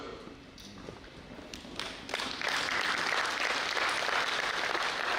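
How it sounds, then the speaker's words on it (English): At a general assembly, a standing audience applauds their commissioner: quiet room noise and a few stray claps at first, then a full, steady wave of clapping that swells and holds to the end. "You stand up and clap for our commissioner."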